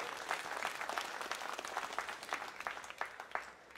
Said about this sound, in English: I'd ask if you would give them a big round of applause for their support